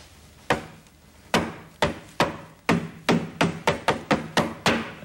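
A hammer knocks a surface coated with bruise-revealing paint: sharp, close wooden raps, first spaced out, then quickening into a brisk run of about a dozen hits with short decays, no talking.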